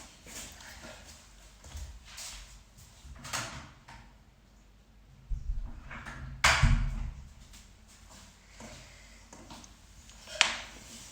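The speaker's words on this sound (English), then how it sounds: "I just need to hop up, close this door, and then we will get started." An indoor room door is shut with one sharp, fairly loud thump after a few soft footstep-like shuffles, followed by quieter handling knocks and a final click in an otherwise quiet home space.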